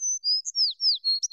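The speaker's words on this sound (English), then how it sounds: "A dove lands on her hand." A single bird chirps in a quick string of clear, high, sliding tweets, close and loud against silence, as a dove lands on a hand outdoors.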